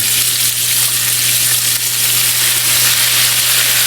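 Steak sandwich frying on a hot surface, with Worcestershire sauce sprinkled around the rim, gives a loud, steady sizzle that runs unbroken and close throughout, with a low constant hum beneath.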